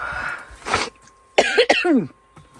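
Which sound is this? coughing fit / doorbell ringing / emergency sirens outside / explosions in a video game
coughing fit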